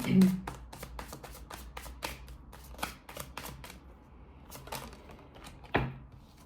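Tarot cards shuffled in quick, crisp bursts that fade in and out, with someone speaking French alongside; one sharper tap or slap lands near the end.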